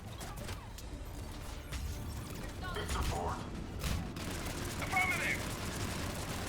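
Gunfire in the video game Mass Effect 3 Legendary Edition as two squadmates fire together: rapid crackling shots and impacts amid mechanical combat noise, moderately loud, with some voices.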